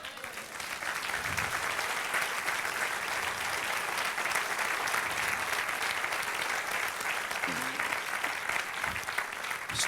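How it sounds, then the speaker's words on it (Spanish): A church congregation claps during a sermon, dense sustained applause that fills the room at a steady level, with a few faint voices underneath. "Dale un aplauso al Señor"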